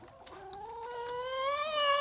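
A chicken gives a drawn-out, rising cluck, close and fairly loud, with faint farmyard background beneath it.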